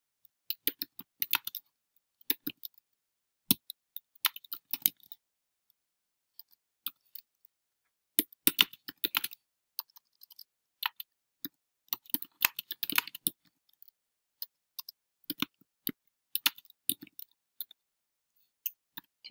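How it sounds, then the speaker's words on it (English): Keys on a computer keyboard clatter in quick, uneven bursts of crisp clicks with short pauses between, close and fairly quiet against near-silence, with no voices. "So we're going to type a few more things here, just like we would in Word."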